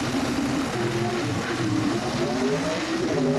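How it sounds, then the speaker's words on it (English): Drag racing cars doing burnouts in a video game, a continuous loud engine roar with rising revs and a dense, steady tire-spinning rasp. "Shane Gray and Larry Morgan to perform the burnouts for round number 2"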